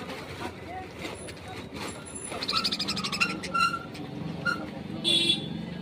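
Budgerigars in a pet shop cage, chirping and chattering in short bursts over the background, with people talking throughout.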